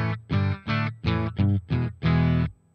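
Distorted electric guitar chords through a PastFx Mischief RAT-style distortion pedal into a Marshall Astoria amp, about seven gritty strummed hits in a steady rhythm, loud and close with no voices.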